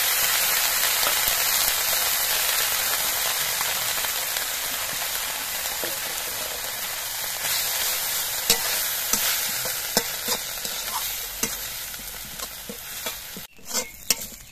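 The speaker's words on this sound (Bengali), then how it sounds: "এবার এই কড়াইয়ের মধ্যে আমি নিম পাতাগুলো ভেজে নিচ্ছি" Neem leaves dry-roasting in a wok without oil, a loud, dense crackling hiss with steady stirring, close and continuous, ending in a few sharp knocks of the utensil.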